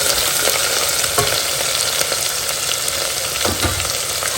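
Chopped onions frying in a pan, loud close crackling sizzle that holds steady throughout, with occasional clacks and scrapes of a ladle stirring.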